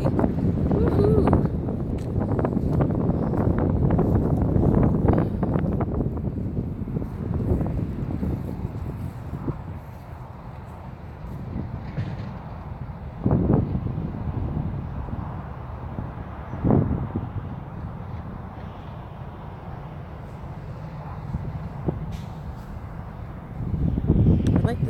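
Cold wind blows outdoors on grass in Arizona, buffeting the microphone with a steady low rumble that dips and surges, while a person talks over it.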